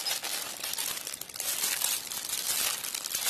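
Paper inside an Aoshima 1/24 Nissan Cefiro A31 model kit box being handled, a close, steady crinkling and rustling with no talk.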